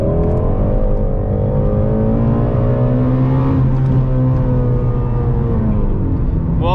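A Shelby GT350 pulls hard during a roll race, its engine note climbing in a loud rising roar with layered harmonic whine, shifting pitch midway and staying close and dominant throughout.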